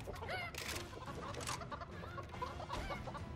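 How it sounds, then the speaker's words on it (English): Chickens cluck repeatedly in the Family Guy: Back To The Multiverse video game, a busy, dense flock sound mixed with game effects and noise throughout. "These effing chickens."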